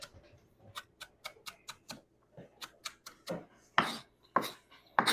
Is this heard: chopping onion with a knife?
yes